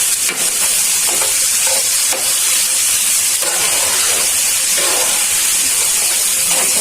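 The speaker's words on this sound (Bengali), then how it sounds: "পেঁয়াজটা ভাজা হয়ে যায়।" Onions frying for bata fish dopiaza in a pan, a loud continuous sizzle and hiss close up, with occasional stirring scrapes and no talk.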